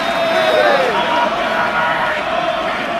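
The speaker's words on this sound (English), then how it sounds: "Yes, the crowd are loving this one," A packed darts arena at the 2019 Champions League of Darts roars for Peter Wright, a loud, sustained crowd cheer with whoops and shrill whistles rising and falling, carrying on without a pause.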